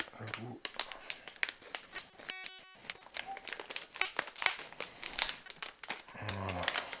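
Scissors snip and crinkle through plastic packaging in a cluttered kitchen while the package is opened, with steady rustling and a voice talking over it at moderate volume.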